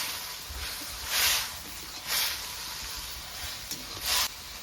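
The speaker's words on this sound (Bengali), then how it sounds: "এবার একটু নেড়ে ছেড়ে নেবো" Kulekhara greens with fried fish heads sizzle in a pan while being stirred: a continuous hiss swells in three or four louder bursts as the mixture is turned, close by and with no speech.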